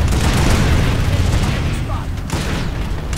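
Heavy weapons fire in the online shooter Planetside 2: loud, booming, continuous blasts that blur into one dense roar, with someone talking.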